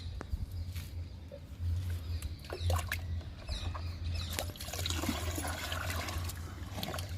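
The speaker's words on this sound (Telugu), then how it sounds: "ఈ 2 బకెట్ల నీళ్ళలో మనం లిక్విడ్ని డైల్యూట్ చేసుకుందాము." Water splashes and trickles steadily into plastic buckets, about 15 litres each, being filled to dilute neem leaf liquid for garden plants, with a low continuous rush and scattered drips and clinks.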